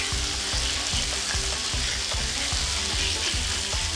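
Potatoes and onion fry in a pan, turning golden brown. A steady, close sizzle runs throughout, with repeated low scraping knocks from stirring at a regular pace.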